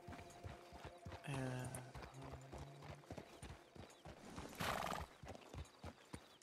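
Horse hooves clip-clop at an even pace in a roleplay video game near a mining camp, close and rhythmic, with a horse whinny and a mechanical creak partway through and no speech.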